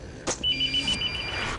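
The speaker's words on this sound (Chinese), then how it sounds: "有电话啊" A telephone rings in a short, bright electronic trill during a zombie game session, heard once, clear and fairly close, with no voices.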